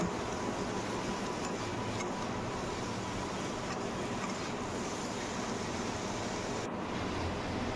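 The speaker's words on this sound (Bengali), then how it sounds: "সামান্য একটু জল দিয়ে ভেজে নেব।" Vegetables with salt and turmeric frying in a pan with a little water, cooking for a singi fish curry, give a steady, loud broadband hiss of sizzling that runs unbroken throughout, with no talk.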